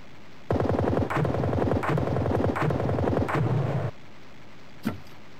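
Rapid machine-gun bursts from a World War I trench combat game, The Great War 1914-1918, rattling loudly in several bursts with short gaps for about three seconds, then a single faint shot.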